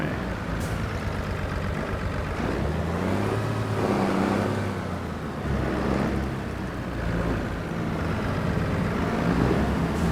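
Continuous low vehicle engine rumble with shifting tones as a machine backs up in Farming Simulator 25, steady and fairly loud throughout, no talking.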